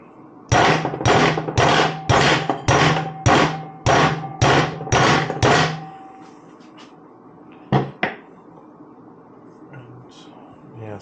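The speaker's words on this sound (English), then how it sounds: "After a little more hammering," Metal-on-metal hammer blows on a Walker Evans shock from an RZR Pro XP4 during a rebuild: about ten sharp, evenly spaced strikes, then a pause and two more hits, loud and close in a quiet workshop.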